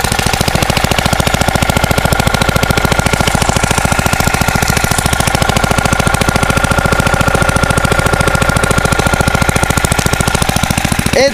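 A brand-new go-kart engine over 205 cc runs loudly up close, a rapid, even putter of firing pulses that stays steady and unbroken the whole time.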